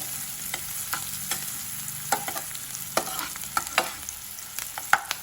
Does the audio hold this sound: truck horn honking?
no